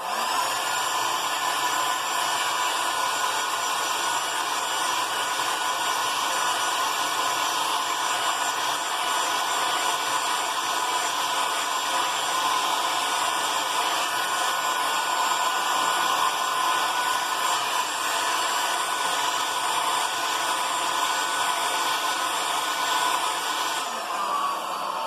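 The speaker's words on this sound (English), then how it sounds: "I'm going to give it a very fast, quick little blast with the hairdryer" A hairdryer blows continuously for drying a watercolour painting, a loud, steady whooshing whine with an even motor hum that runs unbroken and close throughout.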